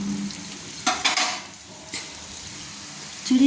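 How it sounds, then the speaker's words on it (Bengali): A spoon stirs fried potatoes into sizzling chirer polao, a flattened-rice pilaf, in a pan, with a steady frying hiss broken by a few close, loud scraping strokes. "দিয়ে আবারও আমি ভালো করে নেড়ে নিলাম, সবগুলো একসঙ্গে আমি নেড়ে নিলাম"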